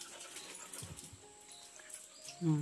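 A dog whimpers at home while being ushered indoors, a short faint whine rising near the end over quiet room noise.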